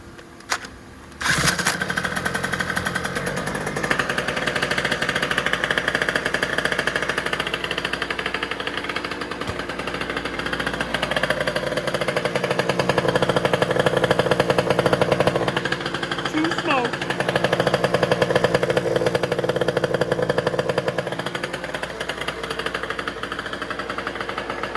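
A two-stroke scooter with a Polini dash and total-loss electrics fires almost at once and settles into a loud, steady, rattling run. The engine rises and falls a little with throttle, and someone talks over it.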